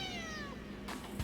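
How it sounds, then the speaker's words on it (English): A cat meows in the video game Travis Strikes Out, one clear drawn-out falling meow followed by a shorter softer call, heard alone over a low background hum. "you crazy cat?"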